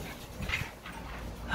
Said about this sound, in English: my dogs are crazy. I just found a squirrel in the tree, and the squirrel's throwing things at them